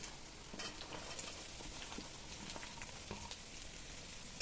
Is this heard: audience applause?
no